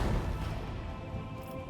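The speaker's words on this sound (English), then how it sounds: "Macro cannons. Annihilate them." Macro cannons fire in the Rogue Trader video game, a short, dense burst of booming, crashing blasts that rumbles heavily and fades slightly, faint in overall level.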